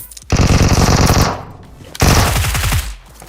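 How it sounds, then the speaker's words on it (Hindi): Automatic gunfire in a video game comes in two loud rapid bursts about a second apart, close and dense, with brief quieter gaps between them. "गोलियां चल रही है, मेरे पे आ जाओ।"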